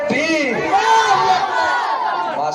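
A large gathering of people roars back a chant response at a religious gathering, many voices shouting together in a loud, swelling surge that fades toward the end.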